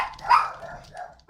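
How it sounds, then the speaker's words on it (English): Several dogs bark in short, sharp bursts somewhere in a home, partly under a person talking. "Sorry about that if you can hear my dogs."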